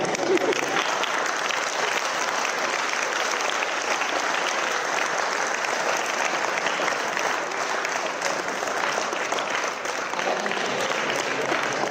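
Sustained applause from an audience at a lecture during the AIU centenary celebration, a dense, even patter of many hands clapping continuously at moderate level with no break.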